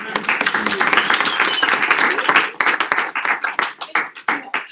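A church audience at a pastors and leaders training session claps, dense applause at first that thins into a handful of separate, fading claps.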